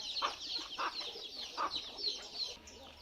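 Chickens cluck repeatedly in short, irregular bursts, fairly faint and a little distant, with no talking.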